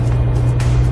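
Mitsubishi Lancer Evolution X fitted with Öhlins road and track suspension, driving on the Nürburgring Nordschleife, gives a steady, loud low engine drone heard from inside the car, with no one speaking.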